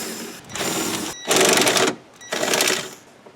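Torx bolts on the cover of a GM wiper pulse board module are backed out with a powered driver, three distinct whirring bursts with short gaps between them, close-up and steady.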